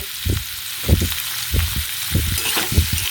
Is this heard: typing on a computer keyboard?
no